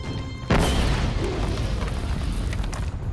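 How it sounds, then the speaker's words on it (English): A grenade explodes in the video game Army of Two: The 40th Day, a sudden loud boom that hits half a second in and rolls into a long, dense rumble of debris and fire lasting to the end. "I'm over here just throwing grenades at myself"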